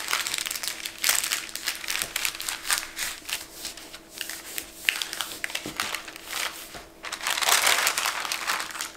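Parchment paper crinkles and rustles continuously as it is rolled around a garlic scape log, a close, busy crackling that swells and fades in waves with no talk.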